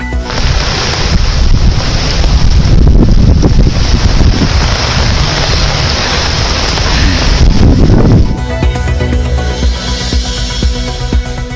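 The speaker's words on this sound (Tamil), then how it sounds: "கடலூரில் பலத்த காற்றுடன் மீண்டும் பெய்யும் கனமழை" Strong wind drives heavy rain in Cuddalore during a cyclone, a loud continuous roar buffeting the microphone that changes character near the end, with no voices.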